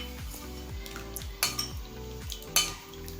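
Thickened milk for malai kulfi is stirred in a pan on the stove, with a spoon scraping and clinking against the metal in repeated strokes over a low simmering sizzle, close and fairly quiet.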